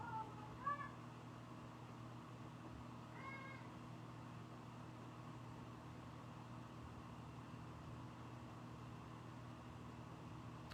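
A house cat meows indoors, two brief faint meows early on, then only a quiet, steady room hum.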